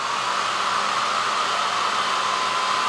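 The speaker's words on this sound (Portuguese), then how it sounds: "com o secador de cabelo" Hair dryer blowing hot air onto a liquid thermoscope, a steady, loud, close-up broadband whoosh lasting throughout with no pauses.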